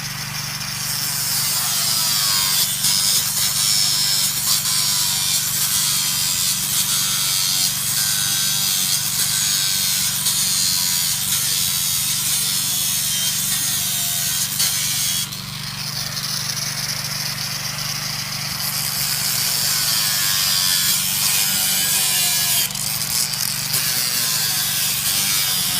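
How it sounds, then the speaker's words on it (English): Angle grinder fitted with a cutting disc slicing through fence end pieces while a boundary fence is renewed, a loud continuous grinding whine that runs steadily for the whole stretch with a brief dip partway through. "I've got an angle grinder there with a disc on, so I'll start doing that"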